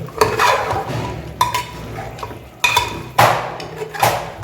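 A ladle clatters and knocks against a pot while mixing chicken gravy with bottle gourd, giving several sharp metallic hits at irregular intervals over a soft background rustle.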